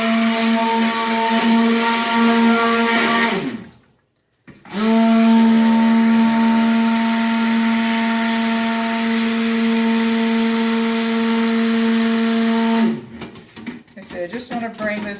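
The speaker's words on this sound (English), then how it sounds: "I'm just mixing my main batch to light trace first." A stick blender whirs steadily through cold process pumpkin spice soap batter made with pumpkin puree, loud and close in two long bursts split by a short pause, ending in clattering handling noise.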